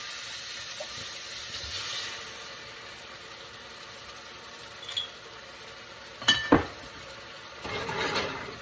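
White wine hitting a hot pan of mushrooms for a mussels and pasta dish, giving a soft, steady hiss and steam over a low hum, with a few clinks of utensils near the end.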